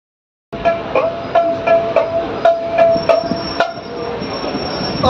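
Inside a moving train bound for Digha, a loud, constant rumble carries a regular clicking rhythm from the wheels, with a thin metallic squeal running through it.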